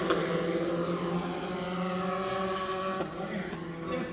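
Formula 4 race cars at a South East Asia championship roar steadily through a tight chicane, a continuous loud engine drone with shifting pitch and no clear gaps.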